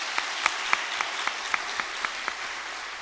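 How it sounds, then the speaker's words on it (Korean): A church congregation clapping during an afternoon worship service, a rhythmic round of unison claps at a steady beat, about ten distinct sharp strikes over a soft background, moderately quiet and slightly distant. "한번 박수 다시 한번."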